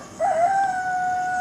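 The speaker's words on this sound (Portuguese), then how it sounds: "Aqui os galos acordam a gente 4h30 da manhã." Rooster crowing at about 4:30 in the early morning, one clear cock-a-doodle-doo call rising and then held as a long steady tone, moderately close against a quiet background.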